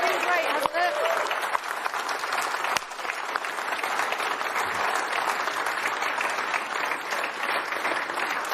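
Studio audience at the launch of the McLaren MCL36 Formula 1 car cheering and clapping, a steady dense roar of applause lasting throughout with no break.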